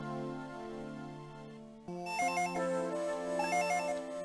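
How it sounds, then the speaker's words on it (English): A phone rings in a living room in the Dragon Ball Z: Legacy of Goku II video game, a melodic electronic ringtone that starts softly and then gets louder and brighter after a short break, with no speech. "Phone is ringing in the living room."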